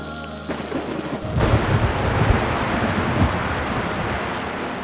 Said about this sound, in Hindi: मौसम बहुत तूफानी हो रहा है